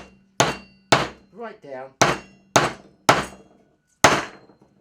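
A hammer strikes a scrap of wood laid over a nut in six sharp, loud whacks with uneven gaps between them, and a voice speaks briefly between the blows.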